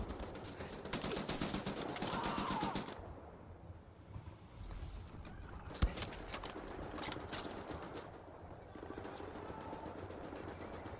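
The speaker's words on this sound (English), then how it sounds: "Ooh, hello, gunfire." Bursts of rapid gunfire in the Wolfenstein video game, loud dense volleys at the start and again after a quieter stretch, mixed with in-game ambience.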